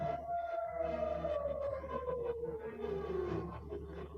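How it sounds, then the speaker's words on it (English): An air raid siren wails over a city during an Israel–Iran missile attack, a faint, distant tone sliding slowly downward over a low rumble of background noise. "Air raid sirens blared incessantly."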